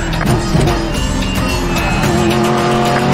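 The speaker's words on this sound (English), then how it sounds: "you have two cars approaching head on" Cars race head-on toward the player in the Medal of Honor Warfighter video game, a loud, continuous engine roar with tire squeal and skidding throughout, dense and close, with no talk.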